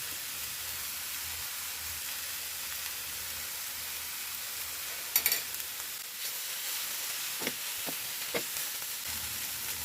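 Green beans seasoned with salt and red pepper flakes fry in a pan with a faint, steady sizzle. A few brief scrapes and clicks of stirring sound near the end.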